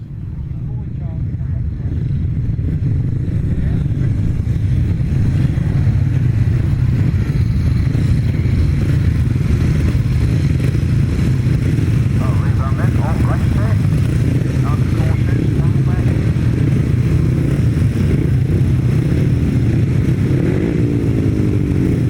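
500cc solo motorcycles racing at a grasstrack meeting, a continuous loud engine drone that holds steady throughout, with a voice talking over the roar.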